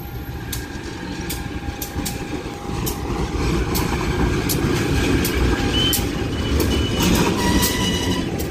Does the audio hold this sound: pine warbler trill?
no